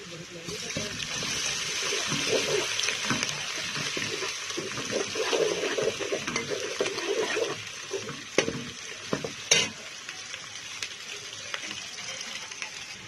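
Garlic ginger paste fries with browned onions in a pan, a steady close sizzle with stirring scrapes and a couple of sharp utensil knocks, and a voice speaks over it at times.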